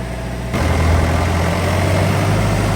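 A tractor engine idles with a steady, low diesel rumble that starts up abruptly after a half-second of quieter hum, then holds a constant, close, loud drone.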